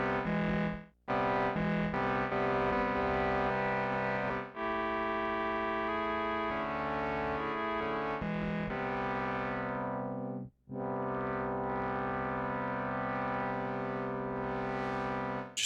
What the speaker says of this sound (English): It was adding quite a bit of distortion.